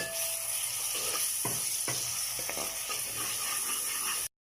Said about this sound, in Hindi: थोड़ा सा फ्राई करना है थोड़ी देर, जब तक टमाटर सॉफ्ट नहीं है।